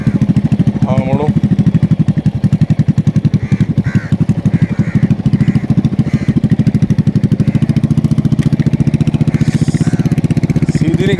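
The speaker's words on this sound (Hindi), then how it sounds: "देखो थ्रॉटल की आवाज़ का पता लगता है" A motorcycle engine runs loud and close with a fast, continuous pulsing throb as it is throttled during a riding lesson, and voices briefly speak over it.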